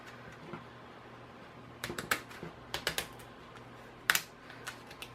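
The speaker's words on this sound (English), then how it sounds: "And then I'm going to cut going kind of behind that little knob." Plastic branches of a small Dollar Tree mini Christmas tree being cut through, heard as a few sharp clicks and snaps in scattered bursts over a quiet background, with one louder crack near the end.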